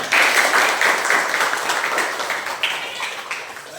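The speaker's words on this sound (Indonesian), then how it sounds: "Tepuk tangan dulu." A class of students clapping their hands together in a room, a dense burst of applause that stays fairly loud through the clip with a slight dip near the middle, and some voices mixed in.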